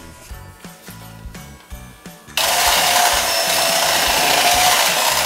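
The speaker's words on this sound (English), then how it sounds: "We're first gonna start by creaming the sugar and the butter." An electric mixer creams a cup of butter with two cups of sugar for Christmas cookies. Soft background music with a light beat plays first, then a loud, steady whirring cuts in and runs to the end.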